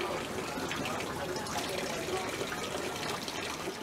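Holy water flowing steadily at a Bali temple near Tanah Lot, a continuous close trickling and splashing wash with faint voices mixed in.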